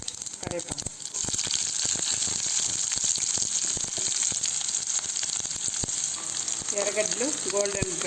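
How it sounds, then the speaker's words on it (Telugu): Onions, curry leaves, mustard seeds and chana dal sizzle in hot oil for a tempering: a loud, continuous hissing fry with crackles and scattered stirring clicks, and a voice comes in briefly near the end. "ఎర్రగడ్డలు గోల్డెన్ బ్రౌన్ వచ్చేలాగా, ఎర్రగడ్డలు కొంచెము బ్రౌన్ కలర్లో వచ్చేలాగా మనము వేయించుకోవాలండి"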